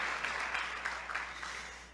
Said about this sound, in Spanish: Vamos a darle un aplauso fuerte, hermoso.